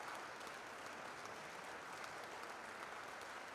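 A church audience applauds two choirs after a concert closing the Santa Eudald festival in Ripoll, with steady, dense clapping filling the space at an even level throughout.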